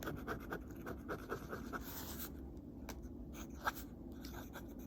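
A Lamy Safari fountain pen with a slightly finicky nib scratches across paper in Waterman Absolute Brown ink, giving quiet, close, irregular strokes over faint room noise.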